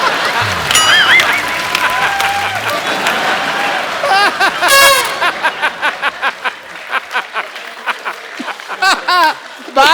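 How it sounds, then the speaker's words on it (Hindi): Studio audience at a comedy talk show breaking into clapping and laughter, a burst of mixed voices and chuckles giving way to a loud run of rhythmic claps, close and full. "आपने तालियां मारी ना अभी अभी"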